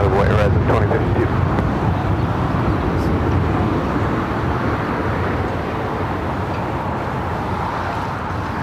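Horizon Air flight 2052 takes off full length from runway 25 right at LAX, a loud sustained jet roar that is strongest at the start and slowly fades as the plane pulls away.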